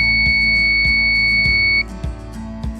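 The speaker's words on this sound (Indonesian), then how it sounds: "apabila button buzzer ditekan, maka buzzer akan menyala selama 5 detik" A microcontroller buzzer triggered by a button press holds a steady, piercing electronic tone for just under two seconds and then cuts off, over a low electrical hum and regular soft ticking.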